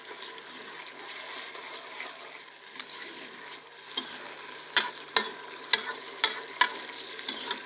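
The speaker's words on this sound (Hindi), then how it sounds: "चम्मच चलाते रहना है यहाँ पे" A spoon stirs tomato gravy frying in a pot, with soft bubbling sizzle and several sharp, evenly spaced clinks of metal against the pot toward the end.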